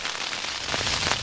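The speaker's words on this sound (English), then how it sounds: "That's the worst rain I've put a tent up in for a long time." Heavy rain drumming on a tent at a hill camp in strong wind, a dense close patter of drops that is loud and unbroken throughout, with no talk.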